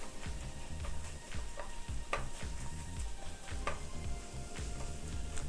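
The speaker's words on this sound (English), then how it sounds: "allow the corned beef to cook down just a bit more" Corned beef frying in a pan: a steady close sizzle with occasional stirring scrapes and clinks of a utensil against the pan, no voices.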